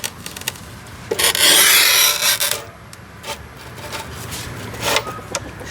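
An Ingco 600mm manual tile cutter scores across a tile in one loud, rasping stroke lasting about a second and a half, followed by quieter scraping and handling noises.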